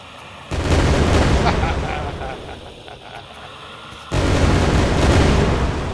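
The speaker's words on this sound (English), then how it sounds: "Frag grenade." A frag grenade explodes in a video game with a sudden loud, deep boom that rumbles and fades, followed by a second heavy blast a few seconds later.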